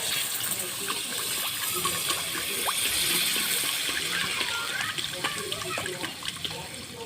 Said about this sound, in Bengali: ভাজা হয়ে গেছে, এখন দিয়ে দিব পানি